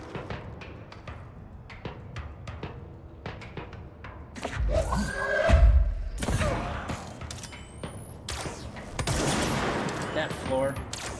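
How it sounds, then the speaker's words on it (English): Sharp gunshots fire at the player in a supernatural action video game, scattered single cracks building into heavier bursts and crashes in the middle and near the end, with a voice talking over parts of it. "What the hell is shooting at me?"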